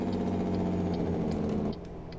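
A Kenworth K100E heavy-haul truck in American Truck Simulator engages its exhaust brake, a loud steady droning rumble that cuts off abruptly near the end, heard alone without talk.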